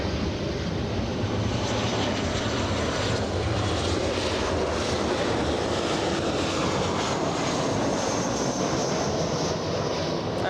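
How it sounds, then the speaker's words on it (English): Delta Airlines airliner taking off at Los Angeles International Airport, a loud, sustained jet engine roar that holds steady throughout with broadband rumble and hiss. "We're staying with Delta Airlines until it lifts off."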